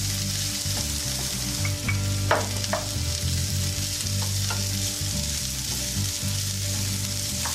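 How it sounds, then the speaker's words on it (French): Onion, garlic and Espelette peppers sauté in a pan with a continuous close sizzle over a low steady hum, a few light utensil taps, and a brief murmured voice. "on va laisser revenir l'oignon et l'ail"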